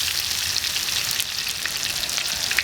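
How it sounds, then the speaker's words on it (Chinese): Ginger and garlic hit hot oil in a pan where crucian carp was just fried for a sour bamboo shoot dish, giving a loud, steady, dense sizzle throughout with no talking. "加入姜蒜、"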